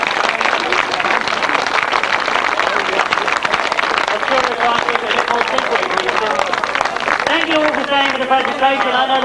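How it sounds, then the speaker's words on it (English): Crowd applause at a 1998 1000cc sidecar grasstrack meeting at Wimborne, steady outdoor clapping mixed with a public-address voice talking over it, with a motor tone rising near the end. "Well done indeed, lads, and indeed a great round of applause."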